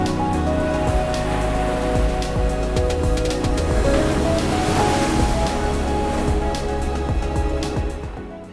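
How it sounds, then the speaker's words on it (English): King tide waves crash at Depoe Bay on the Oregon coast, a loud, continuous roar of surf and spray with no break. "Depoe Bay has long been a traveler's favorite when it comes to taking in these extraordinary king tide conditions."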